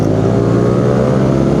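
A BMW R nineT Urban G/S with a boxer engine pulls away in traffic, giving a loud, close, steady engine drone with a rich low rumble.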